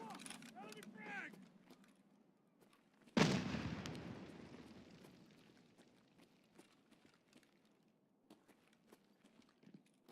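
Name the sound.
frag grenade exploding in Escape from Tarkov video game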